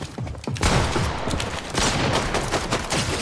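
Rapid bursts of gunfire in a Fortnite match crackle loud and close for several seconds, volleys overlapping with booming hits, with no voices over them.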